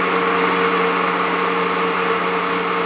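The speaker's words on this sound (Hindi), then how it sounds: "अब इन सारी चीज़ों को अच्छे से ब्लेंड कर लेंगे" Kitchen blender whirring steadily as it blends almonds, milk and other shake ingredients, a constant loud motor drone with a fixed hum running unbroken and alone.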